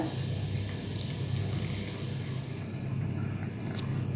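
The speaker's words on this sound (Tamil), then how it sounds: "இப்போ வெள்ளத்தை வடிகட்டிக்கலாங்க" Dissolved jaggery water pours through a strainer while making akkaravadisal, a steady close trickling flow that runs evenly throughout, with a small clink near the end.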